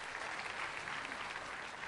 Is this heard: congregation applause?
yes